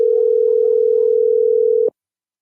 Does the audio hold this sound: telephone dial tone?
yes